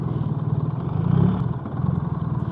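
A BMW motorcycle idles in traffic, its engine a steady low, even putter with a slight swell midway, close and continuous with no one speaking.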